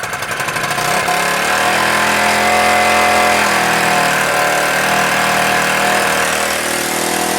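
A Homelite Powermate UT-13140 79cc gas lawn edger, its tank rusted, runs at full throttle: a loud, steady two-stroke buzz that climbs as it revs up in the first second, then holds a constant high drone with no pauses.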